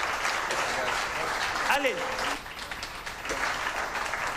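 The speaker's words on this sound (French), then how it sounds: "On peut les applaudir parce qu'ils sont tous méritants." Audience at a French business awards ceremony claps for the prize winners, steady moderate applause throughout with a voice calling out briefly midway.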